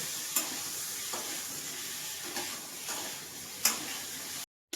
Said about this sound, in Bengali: আমি আলুটাকে একটু ভেজে তুলে নেব